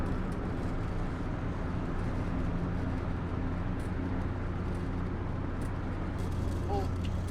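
A Renault Twingo 1 on the road with a fault that makes it judder in every gear, giving a steady low engine drone and road rumble heard from inside the car.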